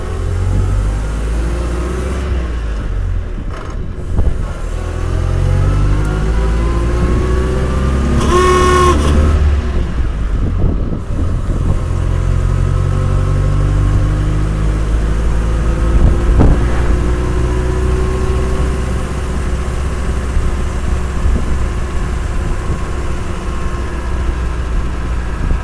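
A 1923 Lincoln with two-wheel rear brakes drives down the road, its engine droning loud and continuous and rising and falling in pitch as it shifts through gears, with a short burst of horn-like sound near the middle.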